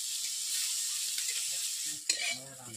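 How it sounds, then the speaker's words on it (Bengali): Pointed gourd (potol) frying in oil in a wok, a steady close sizzle with a sharper scrape as the pieces are stirred and turned near the end. "এভাবে খুঁটি দিয়ে নেড়ে নিচ্ছি পটলগুলোকে, উল্টো পাল্টে ভেজে নিচ্ছি হালকা করে।"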